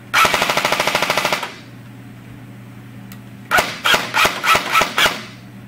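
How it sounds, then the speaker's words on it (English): A VFC Vickers M4 airsoft rifle, empty and powered by a 9.6 volt battery, dry fires on full auto with a fast, sharp mechanical rattle lasting over a second, then after a pause gives several separate clacking bursts, loud and close. "I just want to give you a dry firing test."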